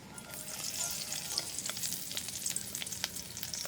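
Dried red chillies sauté in hot oil in a pan, giving a steady dense sizzle with scattered crackles and pops throughout, close and fairly loud with no voices.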